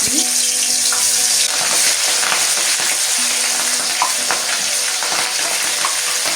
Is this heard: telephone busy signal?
no